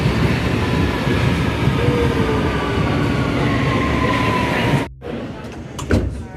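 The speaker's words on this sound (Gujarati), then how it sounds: "આવી ગઈ છે ધ લેજેન્ડ મેટ્રોપોલિટન લાઇન" A London Underground Metropolitan line train pulls into the platform at King's Cross St Pancras with a loud, steady rumble and a rising electric whine, then cuts off sharply into quieter clunks and door sounds, with voices around.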